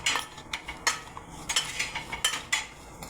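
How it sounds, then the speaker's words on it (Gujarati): A spoon clinks repeatedly against a container while stirring homemade pickle mixed with red chilli and cooled oil, giving a quick series of light, close metallic taps. "ચમચીથી હલાવવાનું."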